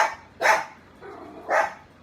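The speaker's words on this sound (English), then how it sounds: "I think she barks more than the bigger dog." A small dog gives two sharp, fairly high barks about a second apart, close by, with a faint softer yelp between them.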